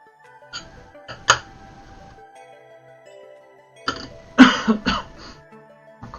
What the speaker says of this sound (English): My cough seems to be drying my throat out.